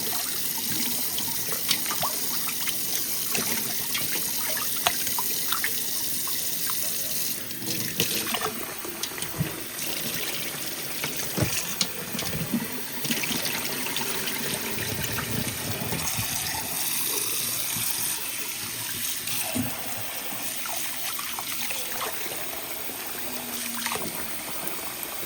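Meat is washed under a running kitchen tap, water streaming steadily into a sink with splashing and handling sounds as the pieces are turned, close and continuous throughout, with no talk.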